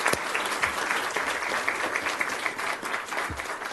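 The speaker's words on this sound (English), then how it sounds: "Let's please give them a round of applause." A room full of people clapping steadily at a board meeting, dense and even applause throughout with no voices standing out.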